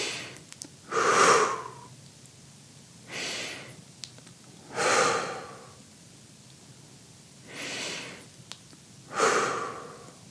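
Three slow, deep breaths taken during a guided sophrology relaxation exercise, each a soft airy inhale-exhale swell spaced a few seconds apart, close and quiet with no talking.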